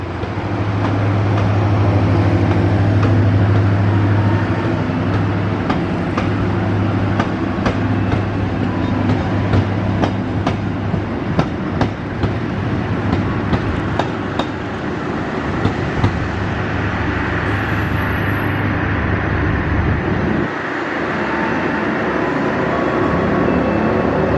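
Trains roll through Jatinegara station in Jakarta, a continuous loud rumble with a low droning tone and a run of rhythmic wheel clacks over rail joints before the noise drops away near the end.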